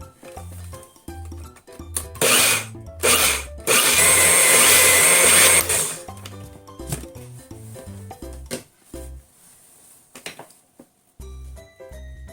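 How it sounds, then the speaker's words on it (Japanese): A blender grinds rice with about 100 cc of lukewarm water, whirring loudly in several bursts: short pulses building to one long sustained run, then stopping, with clunks and handling noise between. "これをミキサーにかけますね。"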